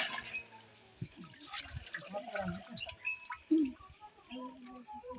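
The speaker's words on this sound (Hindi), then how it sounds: "ये 15 लीटर मठा में अब हम 15 लीटर पानी मिला रहे हैं" Fifteen litres of water poured into fifteen litres of buttermilk, a continuous splashing pour with drips, while people talk over it.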